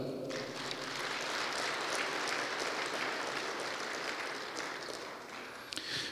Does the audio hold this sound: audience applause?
yes